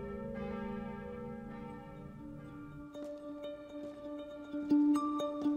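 Several of the eight bells in the towers of Notre-Dame de Paris ring and overlap, their tones humming and clanging in a resonant, echoing space, with no voices.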